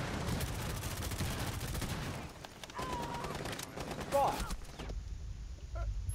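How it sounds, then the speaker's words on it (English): Bursts of gunfire in Rainbow Six Siege during a Favela secure-area match, sharp shots clustered at the start and middle with quieter gaps and faint game sounds between. "we're being shot at from the other side"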